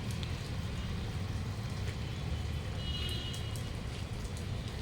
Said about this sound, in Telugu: చూడండి వర్షం ఎలా వస్తుందో. ఇప్పుడే వర్షం స్టార్ట్ అయింది.